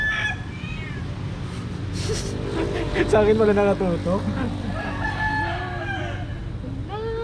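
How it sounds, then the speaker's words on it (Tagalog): A rooster crows nearby, a long drawn-out call, while a person talks over and around it. "Mga tilaok ng manok."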